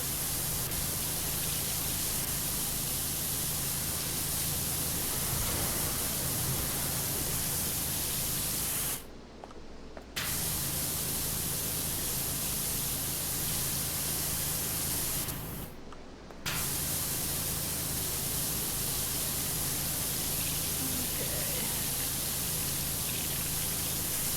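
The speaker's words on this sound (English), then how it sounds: "I'll be able to spray downwards at it from there" A pressure washer sprays a statue in PowerWash Simulator, a loud continuous hiss of water jet that cuts out twice for about a second before resuming.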